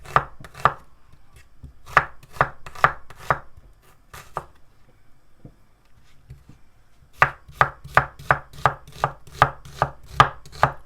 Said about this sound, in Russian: А теперь вот так вот перышками нарежем лучок